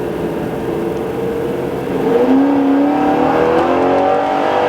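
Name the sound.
Chevrolet Corvette engine revving and quickly shifting in manual mode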